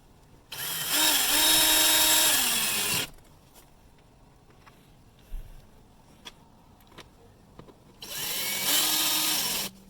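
A power drill drives screws into a car's jammed window mechanism in two loud bursts of a few seconds each, its motor whining up in pitch, with quiet clicks and handling noises between them.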